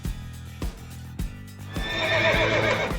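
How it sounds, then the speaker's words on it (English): Two rescued miniature horses on an island: a few hoof thuds, then a loud, close whinny rising and wavering near the end, with no talking. "These little ones are two miniature horses rescued from the carelessness they suffered from their previous owner."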